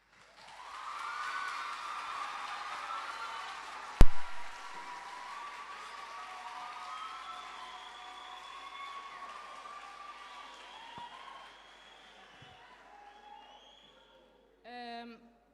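Continuous applause from an audience at a school debate, a steady wash of clapping that runs for most of the stretch, with one sharp loud bang early on before it thins out and fades.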